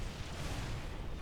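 Dense, continuous rumbling barrage of game gunfire and muffled booms as interceptor aircraft clash in Forged Alliance, steady and loud for the whole moment.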